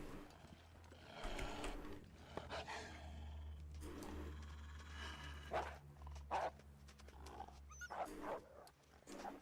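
Growling and snarling of a wolf in a video game set in deep winter, over a low droning hum, with bursts of rough animal noise coming in irregular waves.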